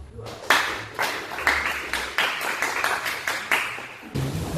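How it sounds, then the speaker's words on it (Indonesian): A class claps for a presenting group, steady broadband applause of several people close by that runs for about four seconds with rhythmic pulses and stops sharply near the end. "aplaus untuk kelompok 2"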